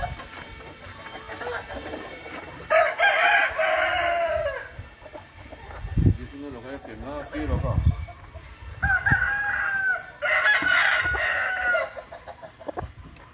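A prized fighting rooster crows twice, loud and near, each call long and drawn out, with softer clucks and barnyard noise in the gaps between.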